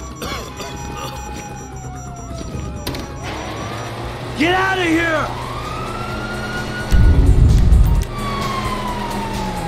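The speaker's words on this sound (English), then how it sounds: "you hear that? Sirens." Police sirens in Grand Theft Auto V wail with rising and falling tones through a game scene, while a loud low burst of gunfire or engine noise cuts in and shouted speech runs over the top.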